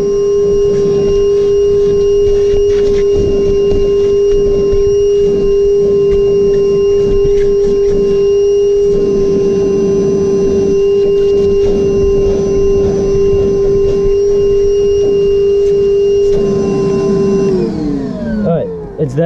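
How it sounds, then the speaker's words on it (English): A vacuum cleaner picking up dog hair runs steadily with a loud, constant motor whine, then winds down and shuts off near the end. "I got my vacuum turned on"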